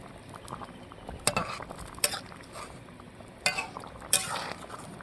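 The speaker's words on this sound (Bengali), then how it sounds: "ভেজে রাখা মাছগুলা দিয়ে নিচ্ছি" Fried rohu fish pieces dropped into a boiling curry with bottle gourd, giving a few sharp clatters and splashes of utensil against pot over a steady low bubbling, close and alone without talk.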